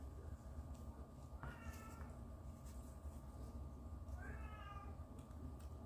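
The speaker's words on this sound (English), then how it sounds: "That's my cat, Vinny." A domestic cat meows twice, a few seconds apart, in a garage where a 1967 Mustang Fastback is being worked on. The cries are fairly faint over a steady background hum.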